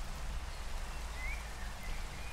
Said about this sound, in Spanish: mirá la lluvia